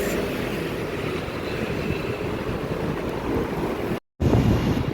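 Strong wind roars steadily against the microphone beneath an expressway, a dense broadband rumble with a brief cutout before it resumes just as loud.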